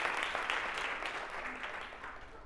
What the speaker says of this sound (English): Let's give a round of applause for Bridget.